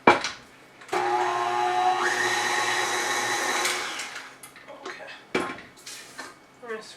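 An electric mixer beats lemon lavender cake batter with a loud steady whir for about three seconds, then stops. Bowl clinks and scraping sounds follow.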